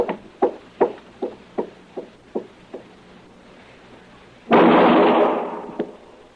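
A rapid string of about eight sharp gunshots rings out for a western radio drama, each crack fading quickly, followed by a louder, longer blast of rushing noise.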